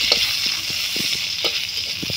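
Garlic fries in oil in a pan before greens are added, giving a steady, bright sizzling hiss throughout, with faint, scattered clicks of stirring underneath.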